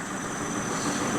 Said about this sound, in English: you can hear the tractor running in the background there